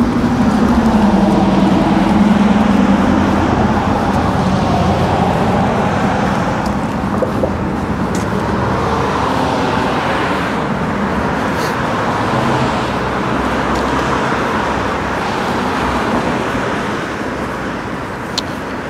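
Steady wash of passing cars on a German city street, loud and continuous with vehicles rolling by close at hand and no clear gaps.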